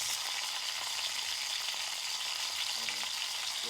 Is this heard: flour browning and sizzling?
yes